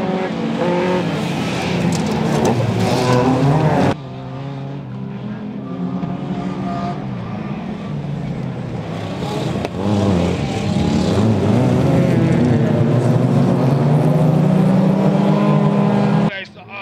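Several autocross race cars at a Vecpils folk-race summer cup round launch together, engines roaring loud and close with shifting revs and a sharp change midway, a commentator's voice running beneath the din.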